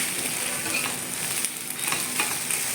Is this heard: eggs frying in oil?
yes